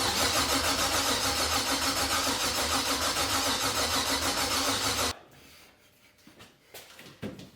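A built LS1 V8 swapped into a BMW E36 cranks and fires for its first start, running loud and steady for about five seconds before cutting off abruptly, followed by faint clicks and shuffling.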